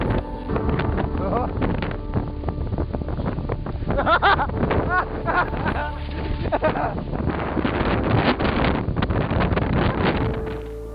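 Strong headwind buffets the microphone while cycling uphill, a loud continuous roar of wind noise with gusty swells throughout and faint voice-like traces beneath.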